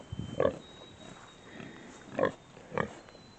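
A pig on a farm grunts three times in short, close bursts, with quieter snuffling between them and no voices.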